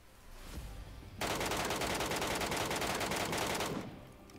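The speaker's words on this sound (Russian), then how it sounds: "сейчас мы слышали выстрелы." A sustained burst of rapid automatic gunfire rattles for a few seconds in the video game mode Metro Royale, then cuts off, leaving quiet background noise.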